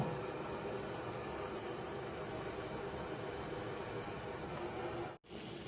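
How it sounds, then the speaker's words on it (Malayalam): Water boiling in an idli steamer pot while Kerala steamed sweet dumplings are made; a steady, fairly quiet hiss and bubbling roar runs unbroken, with a brief dropout near the end. "വെള്ളം തിളച്ച് തുടങ്ങിയിട്ടുണ്ട്"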